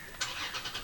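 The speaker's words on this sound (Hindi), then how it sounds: "तो जो ग्राउल है इंजन की वो बहुत अच्छी है।" A 2016 Toyota Tacoma TRD pickup engine cranks and fires, a short loud catch of the starter and engine surging into a rough idle, heard close with no talk.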